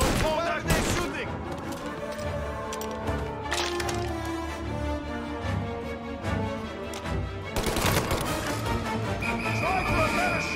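Gunshots in Mafia Definitive Edition, a few sharp, loud cracks spaced through the clip, layered over music and game noise, with voices talking in between.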